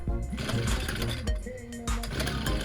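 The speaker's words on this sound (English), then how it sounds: "Okay, I've got it running." A petrol strimmer with broken fuel pipes runs close by with a buzzing, uneven engine note that surges and dips, sounding rough and on the verge of dying.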